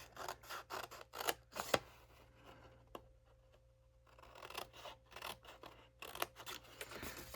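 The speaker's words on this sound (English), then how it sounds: "I'm just going to grab a pair of scissors and I'm going to cut out just on one of them" Scissors snip through paper in quick repeated cuts, a pause with faint rustling, then more snipping close by.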